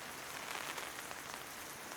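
Steady rain pouring down hard onto a forest clearing, a dense even hiss of falling drops with no breaks, alone and fairly close.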